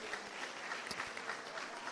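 Audience applause at a town hall meeting on adverse childhood experiences, a steady, quiet wash of clapping that fills the whole short moment at a distance.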